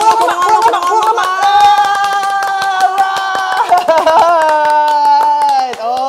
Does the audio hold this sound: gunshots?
no